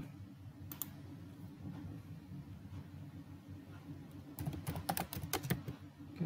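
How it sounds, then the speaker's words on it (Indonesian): Someone types on a computer keyboard while entering slide text in PowerPoint, with a couple of brief key clicks early on and then a denser burst of rapid keystrokes near the end over a low steady room hum. "Kemudian kita tinggal ketik menggunakan keyboard di komputer kita."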